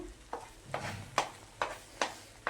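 Amla candy mixture being stirred as it dries in a pan: five or six soft, evenly spaced scraping strokes, close and quiet.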